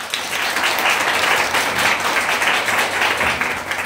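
Steady, dense applause from guests at a Lancer driving experience day briefing, many hands clapping together at close range for about four seconds with no voice over it.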